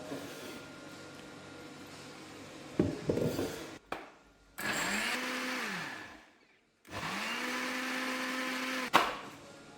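An electric mixer grinder blends onion with water in two bursts, each a loud steady whir that ramps up, holds and winds down, with brief clatter between runs and no talk.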